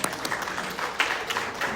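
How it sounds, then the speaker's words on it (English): A gathering at an AA speaker meeting applauds the kitchen crew in a brief, steady patter of many hands clapping, moderately loud and continuous, with no voices over it. "Another round of applause for the kitchen."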